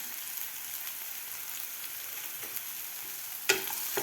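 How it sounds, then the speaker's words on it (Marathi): Sprouted moth beans in a curry, seasoned with salt and turmeric, are stirred in a pan: a soft, steady frying hiss runs throughout, with a single sharp utensil clack near the end. "व्यवस्थित आपल्याला हलवून घ्यायचं आहे व्यवस्थित मिक्स करून घेतलेला आहे"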